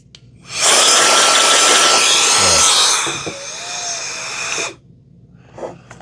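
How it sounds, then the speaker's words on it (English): A three-speed electric air blower, used for cleaning a Roborock Saros 10 robot vacuum, whirs up to a loud, high rushing roar, drops to a softer steady run, then cuts out, close by with no talking. "I'll put a link to this blower. It's got 3 speeds."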